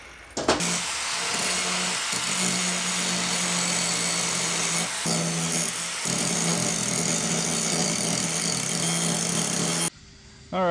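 A power grinder works down a weld on a Subaru STI up pipe, a loud, sustained abrasive whine with brief dips as the tool shifts against the metal, then cutting off near the end.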